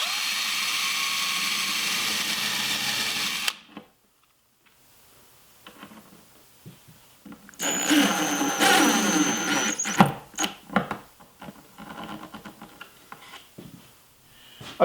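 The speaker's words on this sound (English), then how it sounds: "I'm using a self-centering drill bit, this is called a VIX bit, to pre-drill the hole for the screw." A power drill with a self-centering VIX bit pre-drills a screw hole in trim molding on a plywood platform bed, giving a steady high whine that stops, then returns in a shorter, rougher burst followed by scattered clicks and handling noises.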